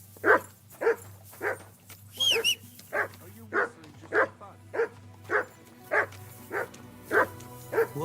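A dog in the video game Kingdom Come: Deliverance II barks about a dozen times in an even, steady rhythm, loud and close, with a low hum underneath.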